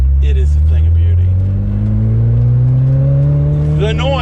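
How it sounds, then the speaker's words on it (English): Ferrari 348ts engine with Capristo cat bypass pipes and a 2B exhaust revving up loudly, the pitch climbing smoothly as it pulls, close and dominant, with a voice briefly heard at the start and end. "The noise of this car"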